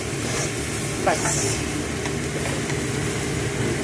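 Potatoes sizzle in a pan just after a splash of water goes in, for a vegetarian banana-flower curry: a steady, loud broadband hiss with a brief sputter near the start, holding even throughout.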